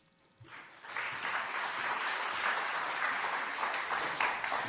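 Audience applause filling a hall at a civic awards night in Hazard, Perry County, starting abruptly after a brief quiet moment and holding as steady, dense clapping with no voices on top.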